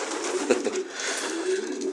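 A racing pigeon coos softly and continuously at close range, a low throaty murmur with a slight swell midway and no other voices.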